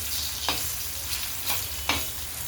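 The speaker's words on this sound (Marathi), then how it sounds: "आपल्याला याच्यात थोडासा तेलात तळून घ्यायचा आहे" Roasted onion frying in a little oil for a spicy mung bean curry, a steady low sizzle broken by three sharp scrapes of a spoon stirring the pan, no talking.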